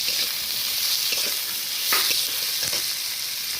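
Chopped tomato hits medha tengra sea fish frying in a pan, setting off a loud steady sizzle with brief louder bursts as the pieces land and get stirred, with no voices.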